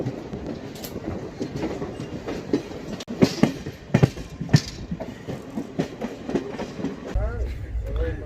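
A moving passenger train running from North Bengal toward Kolkata rumbles along with rhythmic wheel clatter and sharp rail clicks, heard from on board, with faint voices mixed in.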